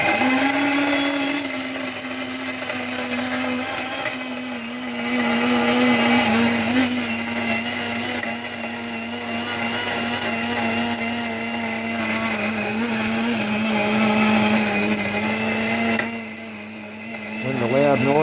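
Grinder grinding incinerated chips runs as a loud, steady mechanical whine with a constant motor hum and rattling grit throughout, dipping briefly near the end, close and with no talk.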